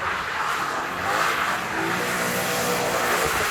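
A BMW M5 in two-wheel drive mode spins through a donut, its engine roaring continuously and fairly close with a strained, steady drone and no voices.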